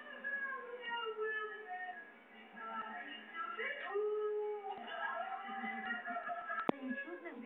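A dog makes drawn-out, wavering howls and whining vocal sounds, rising and falling in pitch almost like speech, fairly close.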